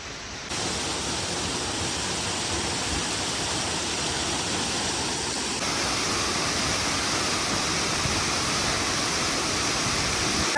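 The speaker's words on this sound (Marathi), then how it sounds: "आपण धबधब्याच्या आता बरोबर एक्झॅक्टली खाली आलो आहे" Ghonsari waterfall in Kankavli in the Konkan roars right overhead, a dense, loud, unbroken rush of falling water with no voices over it.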